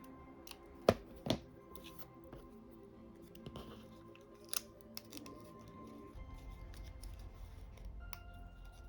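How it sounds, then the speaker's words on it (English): Scissors snipping through hair bow material at close range, a few sharp distinct cuts near the start and one more midway, followed by faint handling noise and a low rumble toward the end. "So I'm just going to take my scissors"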